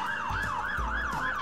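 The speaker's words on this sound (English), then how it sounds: "Siren" A fire engine siren wails in a fast, rising-and-falling cycle, loud and continuous, with a low rumble underneath.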